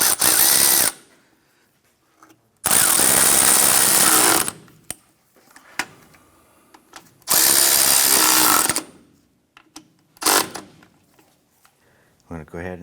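A power tool tightens lower control arm bolts on a 1994–2004 Chevrolet S10, loud whirring bursts in two long runs and a shorter one, with clanks and quiet gaps between them.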